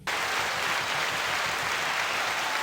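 Steady, dense applause from a crowd celebrating the 4th of July, loud and continuous with no voices breaking through.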